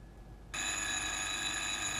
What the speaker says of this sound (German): Im gleichen Augenblick hörte ich aus dem Wohnzimmer das Telefon.